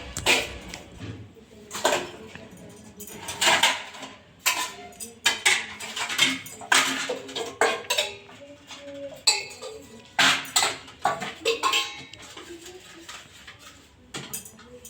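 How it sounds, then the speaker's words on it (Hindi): Dishes, pots and steel utensils being washed by hand: repeated clanks, scrapes and clinks of metal vessels knocking together in an uneven rhythm, close and fairly loud. "तो चलिए बर्तन धो के रख देते हैं।"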